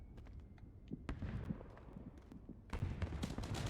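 Scattered cracks and pops of distant gunfire in PUBG, sounding like fireworks, come in irregular bursts against low background rumble, with a denser cluster near the end.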